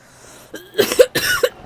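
A short burst of harsh, close coughs, three or four in quick succession, loud against a quiet background.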